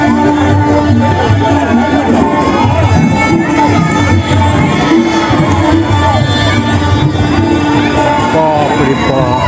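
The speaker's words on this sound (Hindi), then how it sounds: "देख सकै छी अखन का भीड़ सबसे ज्यादा अखन भीड़ है।" Large crowd gathered at night for a village Durga puja Mahanavami feast, a dense continuous hubbub of many voices and movement, loud and close throughout, with people talking amid the babble.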